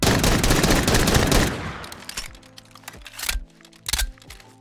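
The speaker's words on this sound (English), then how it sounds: "Starting off with the partial reload. And then the full reload." A dual-wield Desert Eagle pistol reload in a Fallout 4 mod plays as a loud dense burst, then a quick series of sharp mechanical clicks and clacks spaced close together.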